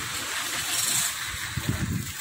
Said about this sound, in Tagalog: Yari, umuulan.